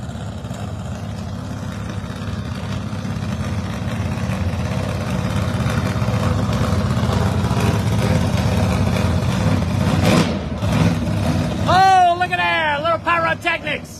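Drag race cars, including a big Ford Fairmont, idle at the line at Darlington Dragway, a steady low rumble throughout under a voice, ending in sharper bursts as engines rev.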